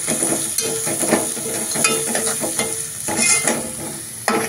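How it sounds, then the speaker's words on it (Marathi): Onion frying in well-heated oil as it is stirred, a continuous close sizzle with repeated scraping strokes and a high steady hiss. "तेल चांगलं तापलंय त्याच्यात हा कांदा टाकायचा."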